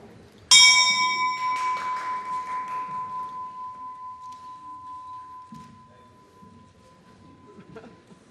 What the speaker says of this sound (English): to do the symbolic ringing of the bell